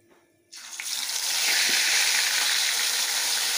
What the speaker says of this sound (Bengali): এখন বাকি মাছটাও আমি ভেজে নেব।